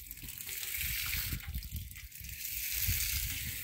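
Cold well water gushes and sloshes at an old homeplace in a continuous, faint splashing rush with a low rumble, with no talk.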